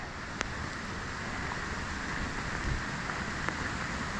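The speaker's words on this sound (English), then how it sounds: "we don't typically start in the pouring rain" Steady, heavy rain pours down in a forest in the Sultan River Canyon, Washington, in winter, with a constant broadband hiss and occasional sharper drips, no voices, ambient and enveloping throughout.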